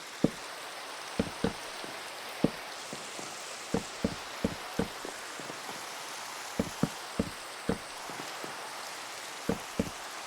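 Rainstorm in a survival video game, with rain falling steadily and heavy droplets striking a surface in scattered sharp taps throughout, fairly faint and alone with no talk.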